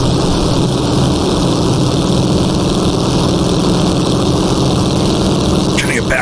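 Delage 2LCV racing car from the 1923 Grand Prix, driven at the Opel Rennbahn in Assetto Corsa, with its engine droning loud and steady throughout, a constant low rumble close by.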